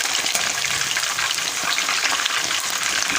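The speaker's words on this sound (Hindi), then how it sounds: "सबसे पहले मैं जो है ना चिकन को फ्राई कर रही हूँ।" Chicken wings frying in a kadai, a dense, loud, continuous bubbling sizzle of hot oil heard up close without any talk.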